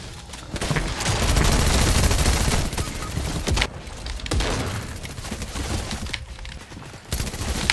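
Dual Uzi machine pistols fired in Fortnite, with long rapid bursts of dense automatic gunfire, one sustained volley followed by shorter bursts and brief gaps, loud and close.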